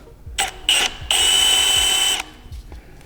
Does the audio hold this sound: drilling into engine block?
yes